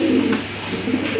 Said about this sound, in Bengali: খুবই চমৎকার এক জোড়া দেশি কবুতর।